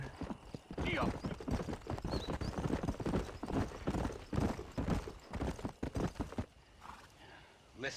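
Horse hooves clip-clop at a steady ride in the Red Dead Redemption video game, with occasional whinnies, layered under in-game speech and ambient sound.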